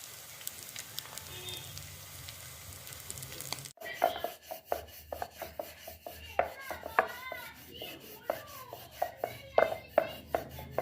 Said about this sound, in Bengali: আর এই যে চাল বাটা হচ্ছে